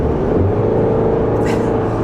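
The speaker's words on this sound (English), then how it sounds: "still got that nice strong engine" A 2023 GMC Canyon mid-size pickup engine runs steadily, a loud continuous low rumble and hum with no talking over it.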